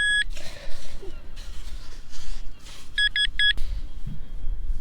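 Short electronic beeps from a metal detector sweeping a mineralised Scottish beach, a single tone near the start and then a quick triple burst of beeps near the end over wind and surf noise.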